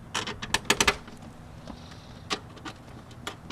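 A wrench ratchets on a truck's ground wire bolt, giving quick clusters of close clicking and metallic taps, busiest at the start and then sparser, with no talking.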